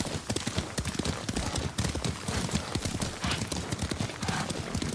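Horse hooves clip-clop steadily at a riding pace in Ghost of Tsushima, loud and close, with a brief whinny and faint voices beneath.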